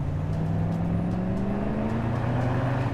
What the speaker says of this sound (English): An armored vehicle lets out a roar as its engine is pushed to max output.